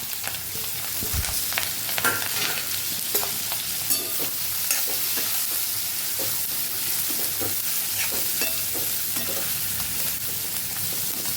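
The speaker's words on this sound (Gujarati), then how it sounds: "5 ચમચી જેટલી પહેલા હળદર ઉમેરશું અને આપણે મરચાં અને કોબીને ઉમેરી દઈશું." Chillies and cabbage sizzle in hot oil seasoned with turmeric and asafoetida for a Gujarati relish, a steady close frying hiss with frequent scraping stirs and clinks, no talking.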